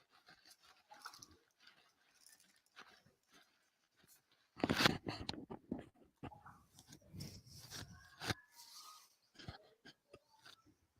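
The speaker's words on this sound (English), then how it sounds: "I'm sorry for the crunching again, folks." A baseball commentator crunching and chewing biscuits near the microphone, with bursts of dry crackling bites and chewing between quieter stretches.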